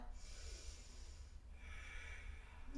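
A person takes slow, deep breaths during a yoga exercise, two long, airy breaths heard faintly and close, with no talking.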